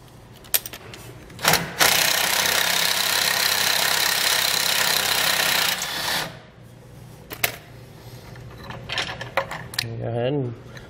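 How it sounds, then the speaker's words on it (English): Power tool or ratchet working a nut and bolt loose on a boat trailer tie-down bracket, a long loud whirring run in the middle with short bursts before and after, clinks of metal tools, and brief talk near the end. "I'm gonna go ahead and grab my tools and remove the nut and bolt here"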